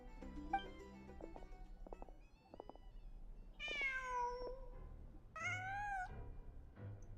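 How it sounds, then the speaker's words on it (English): A cat in Genshin Impact meows several times, a few short chirpy calls followed by two longer, drawn-out, clear meows close by, over soft game ambience with no talking. "Just a cat."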